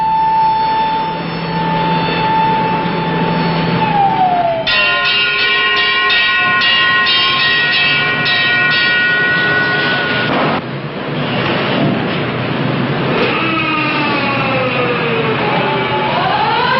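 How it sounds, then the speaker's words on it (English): An air raid warning siren wails over a city during the 1957 Portland nuclear evacuation drill, a loud sustained tone that rises and falls in long glides and fills the whole recording. "At 10:35, the banshee wail of the siren echoes the warning, and the city prepares for survival."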